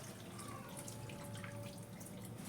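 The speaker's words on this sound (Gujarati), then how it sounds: "ખાલી 1 ગ્લાસ પાણી આપણે એડ કરી દઈશું." A glass of water is poured into chicken curry, a soft, continuous trickle and splash that stays faint throughout.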